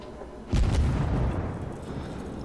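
A destroyer's guns in World of Warships fire blind shots into a smoke screen, producing one loud booming blast at about half a second that rumbles and fades over the next second into steady ambient noise.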